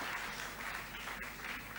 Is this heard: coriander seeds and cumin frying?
no